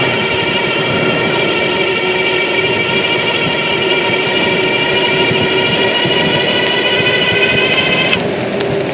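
A Wallke H7 Ultra rear-drive electric bike's motor whines at full throttle, a loud steady high-pitched drone layered over rushing road and wind noise, cutting off sharply near the end.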